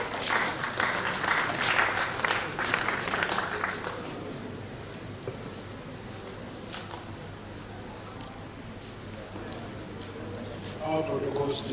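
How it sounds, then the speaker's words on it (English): A university lecture audience gives a round of applause. The clapping is dense and sustained at first, then thins and fades, and a voice speaks near the end. "A round of applause."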